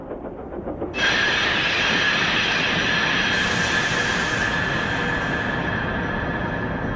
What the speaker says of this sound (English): The sound of Thomas's brakes has changed again. Thomas's brakes echo.